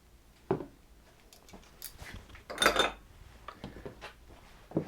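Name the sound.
scraping mascarpone off mixer beaters into bowl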